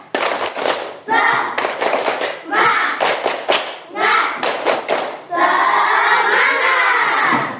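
Schoolchildren in an Indonesian classroom perform a rhythmic class clap, bursts of group clapping in patterned beats followed by a sustained chorus of young voices chanting together.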